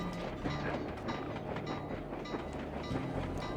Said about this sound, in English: That's one of the trains that John Bisson was talking about.